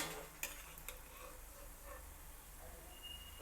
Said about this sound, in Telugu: గోల్డెన్ బ్రౌన్ అయ్యే వరకు వేయించుకోవాలి.